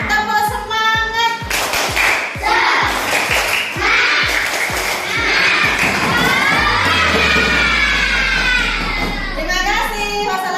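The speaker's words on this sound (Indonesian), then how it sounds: "Tepuk semangat." A group claps in a quick steady rhythm with children's voices chanting a "tepuk semangat" clap chant, ending in a rising cheer and a final burst of claps.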